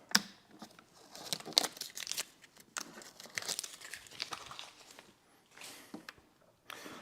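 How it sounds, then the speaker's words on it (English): Adhesive tape is peeled away during a trunk light strip install on a 2021 or newer Honda, giving close crinkling and tearing rustles in irregular bursts with short pauses between. "And then we're going to pull the tape."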